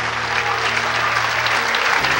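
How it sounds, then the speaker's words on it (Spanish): A church congregation at a pastor's sermon claps together in a brief, dense, loud burst of applause with a low hum underneath. "Dele un aplauso al Señor con todo su corazón."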